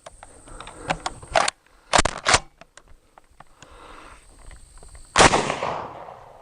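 A Smith & Wesson M&P12 pump shotgun loaded with 2 3/4 inch buckshot fires at an outdoor range: sharp, loud reports, two in quick succession, then a pause and a final blast with a ringing tail.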